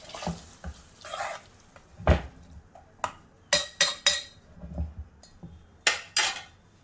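A spoon stirs ground tomato, chilli and water in a pot for Sindhi sai bhaji, with sharp, irregular metallic clinks and scrapes against the pot that come close and fairly loud, separated by quieter gaps.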